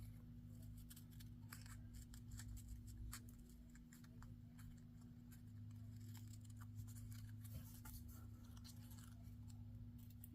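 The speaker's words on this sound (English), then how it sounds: "I'm going to go ahead and round my corners and make sure the sides are straight on my sticker." Scissors snip the corners of a paper sticker for a junk journal, a run of small, quiet, close cuts over a steady low hum.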